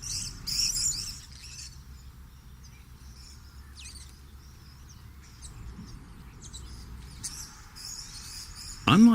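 Purple-crowned lorikeets feeding in trees give sparse, high chirps and tweets, with a sharper, louder call close by at the very end.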